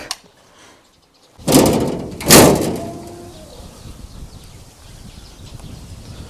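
A farm barn door on a cattle-fattening farm swings with two loud, close scraping bangs about a second apart, followed by a fading creak and a quiet ambient hush.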